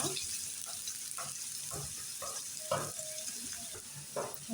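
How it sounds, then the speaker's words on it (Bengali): Spice paste fries in oil in a wok, giving a steady sizzle broken by scraping stirs and light clinks, heard close with no talk over it. "কড়াতে তেল দিয়েছি সাথে পেস্টটাও দিয়ে দিয়েছি আমি পেস্টটাকে ভালো করে ভেজে নেব"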